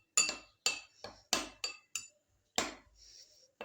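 Homemade watermelon tutti frutti pieces being stirred in a bowl, producing a series of sharp clinks and knocks at an uneven pace, close and distinct against near-silence, followed by a faint ringing tone.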